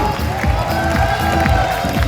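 Cheering and scattered clapping from an audience at a Diversity Days event rise over loud dance music with a regular bass thump, the crowd noise continuous and mixed into the beat.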